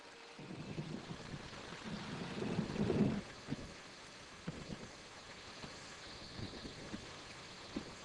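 Monsoon rain with thunder in a jungle setting: a low, rumbling swell builds to a peak a few seconds in, then fades to a steady, soft wash of rainfall with occasional faint rumbles, fairly quiet and distant throughout.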